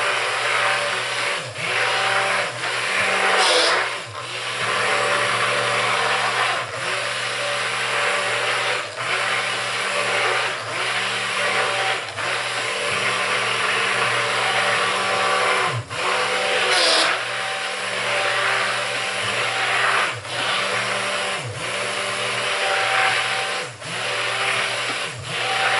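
A stick blender whirring through goat milk, oatmeal, lard and lye soap batter, a loud, close, sustained motor drone broken by brief dips and short pulses as it works.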